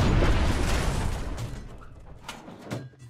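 A tank gun fires in the war game Foxhole, a loud low boom at the start that rumbles and decays over a few seconds, followed by a couple of sharper distant cracks near the end.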